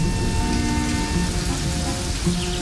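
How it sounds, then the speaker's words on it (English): Steady rain falls as a sound effect in an animated children's story, a dense, even hiss of drops with a faint low rumble beneath, continuous and alone with no voices. "In rain"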